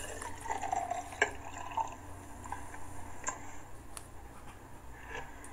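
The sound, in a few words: juice being poured into a glass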